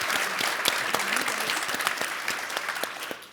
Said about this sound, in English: another round of applause for our amazing panel